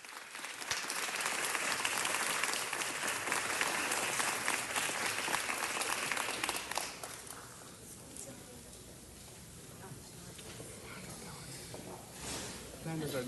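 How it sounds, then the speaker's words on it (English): Applause for an honoree at a city council meeting: loud, dense clapping from the room fills the first seven seconds, then fades into quieter chamber noise and murmured talk. "Let's give him a round of applause"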